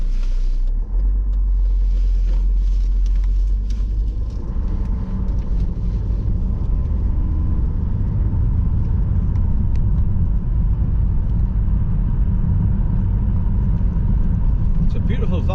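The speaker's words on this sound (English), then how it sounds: "I'll just wait till this car gets past me now and I'll drive out." A car drives along a valley road beside the River Coquet, its steady low engine drone and road rumble close and continuous throughout, with a brief swell near the start.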